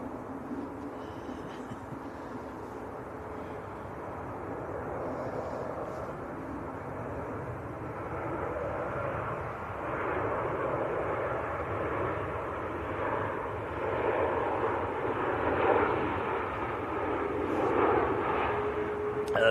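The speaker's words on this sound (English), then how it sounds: "Jet 2 from Innsbruck is next to land" Jet2 airliner arriving from Innsbruck rumbles in to land at Manchester Airport, a steady broad engine roar swelling gradually over the length, heard from a distance with no talk.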